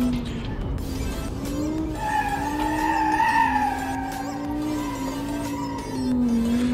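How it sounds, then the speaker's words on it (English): A car skids while cornering under e-brake, its tires giving a loud, sustained squeal that wavers in pitch over a steady engine roar for several seconds. "The reason I'm curving the car is just to see how it responds to a lack of stability."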